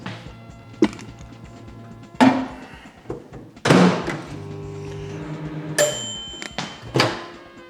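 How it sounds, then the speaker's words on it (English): Microwave oven in a home kitchen: several loud thunks and clacks of the door and buttons, then a steady low hum of the oven running, with a bright beep near the end. "And put this in the microwave for,"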